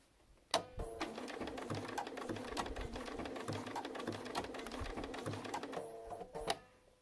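A Bernina sewing machine stitching applique fabric, a fast steady run of needle clatter close by that starts and stops abruptly, with soft bird chirps faintly in the background.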